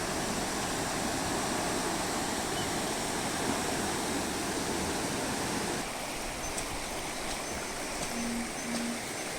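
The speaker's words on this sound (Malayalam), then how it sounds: "ആ നടുക്ക് നല്ല ഒഴുക്കും ആ ഒരു സൈഡിലാണ് മൊത്തം അടിപൊളി ഒഴുക്ക് നോക്കിയേ ആ വെള്ളം ഇങ്ങനെ അടിച്ച് വരുന്നു നോക്കിയേ" A river flowing strongly through a rocky channel near a hill-country confluence, a loud, steady rushing roar of water that fills the scene continuously, close and unbroken.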